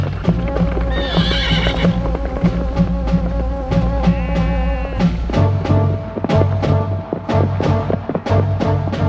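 A horse whinnies and snorts while hooves clip-clop steadily on a hard surface, a close, rhythmic procession of footfalls continuing throughout with no talking.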